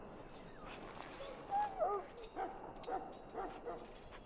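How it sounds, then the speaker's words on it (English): A dog whimpers and yips softly in the fantasy video game Dragon Age: Origins, giving a few short, thin whines and cries over a faint, steady background hum. "Now I can treat the dog properly, poor fella."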